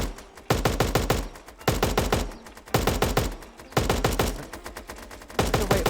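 Bursts of rapid automatic weapon fire in a shooter video game, several short volleys of sharp, evenly spaced shots separated by brief pauses, loud and close with no talking.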